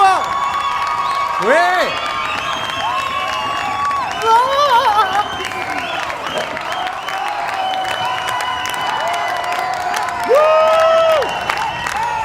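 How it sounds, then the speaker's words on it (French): Audience applause and cheering for Cyrine at a class event, with loud sustained crowd noise, whoops and shouted calls. Voices rise over the clapping throughout, and a brief spoken word is heard. "Un tonnerre d'applaudissements, plus fort, plus fort, plus fort."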